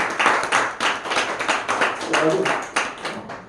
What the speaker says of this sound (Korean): 우리 한번 하나님 앞에 박수의 영광 올려드리겠습니다